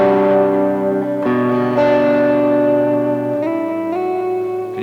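An electric guitar rings out with a warm tone and nice reverb, several sustained chords changing in turn and each one blooming with a long, echoing wash that fills the space and lingers until the next chord, played alone.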